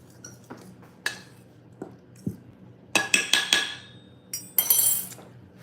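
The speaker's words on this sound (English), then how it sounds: "Let's just get a fork and mix up those dry ingredients." A fork clinking and tapping against a bowl while mixing dry baking ingredients, sharp irregular metallic strikes in short bursts, close and fairly loud with quiet gaps between.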